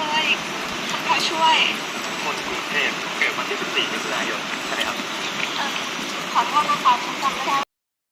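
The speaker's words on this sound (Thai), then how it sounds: "คันได้กลับก็สิต้องได้แข่งฝนอีกเนาะ" Steady rain pours onto a field hut in a rural Lao farm setting, a dense continuous hiss with occasional louder patter, close and enveloping throughout before cutting off abruptly near the end.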